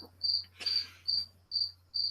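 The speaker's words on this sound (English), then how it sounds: "Do crickets ever get tired of chirping?" A cricket chirps in five evenly spaced high trills, close and clear against a quiet background with a faint hum and one soft rustle.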